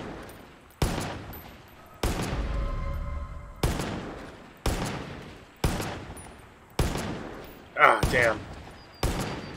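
Gunfire in Far Cry 5 at a moving driver: a steady series of sharp, loud single shots roughly a second apart, each with a ringing tail, with a brief muttered voice near the end.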